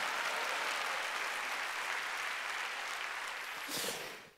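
A church congregation at a Sunday worship service breaks into sustained, dense applause that fills the room evenly for about four seconds, then swells briefly and fades out at the end.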